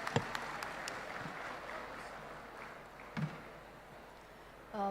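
Applause from an audience at a live research and innovation event, a moderate sustained patter of many hands tapering off over several seconds, with a couple of louder knocks near the end.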